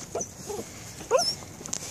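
Puppies in snow give soft whimpers and short yips, several brief high cries scattered irregularly and fairly close, with no talking.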